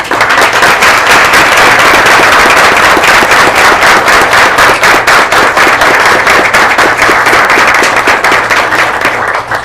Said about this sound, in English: we want to give you a round of applause as well